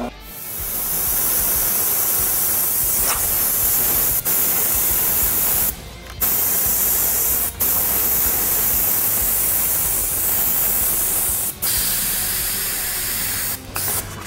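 An airbrush sprays paint over a stencil for twisted flame artwork, a close, loud, steady hissing spray broken by several brief pauses as the trigger is released, with no voices.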